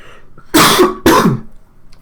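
A person coughs twice in quick succession, two loud, harsh bursts close to the microphone, with quiet before and after.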